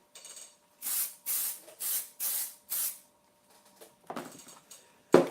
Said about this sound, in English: I will spray fix